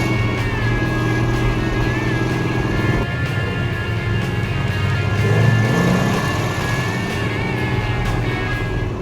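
A 1969 1/2 Dodge Super Bee with 390 horsepower and 1,350 CFM carburetors, its engine pulling hard under load, a loud steady roar with a whining drone that swells slightly midway and holds.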